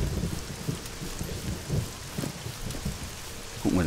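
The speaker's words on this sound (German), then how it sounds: "gerade angefangen zu regnen" Rain pours steadily in the survival video game SCUM, with soft patters and low rumbling thunder rolling through, moderately loud and continuous with no talking.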